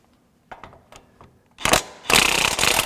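Ratchet wrench working loose bolts on a Kubota tractor bracket, a few faint isolated clicks giving way to two bursts of loud, dense ratcheting, the second sustained to the end.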